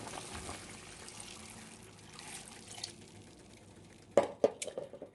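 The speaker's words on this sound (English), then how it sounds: "So I'm gonna add some more water to it." Water is poured into a pot of oxtails cooking on the stove, a faint low background followed by a short burst of splashing and trickling near the end.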